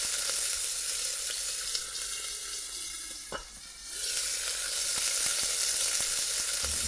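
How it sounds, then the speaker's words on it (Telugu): Rava vada deep frying in hot oil, a steady dense sizzle that dips briefly around the middle with a sharp pop, then resumes at full crackle, close and loud with no talking. "గోల్డెన్ కలర్ వచ్చే వరకు డీప్ ఫ్రై చేయాలి"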